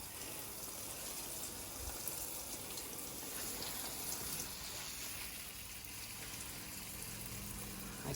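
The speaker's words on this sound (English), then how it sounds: "I put my little sprayer on so that it's kind of like rainfall on the plants" A garden hose with a sprayer attachment showers backyard plants and soil like rainfall, giving a steady, even hiss of fine water spray that runs unbroken throughout.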